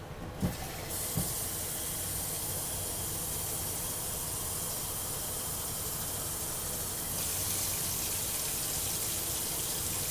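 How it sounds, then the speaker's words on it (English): Water pours from a tap in a steady, hissing rush, continuous and moderately quiet, after a couple of small clunks at the start. "You'll hear the water running."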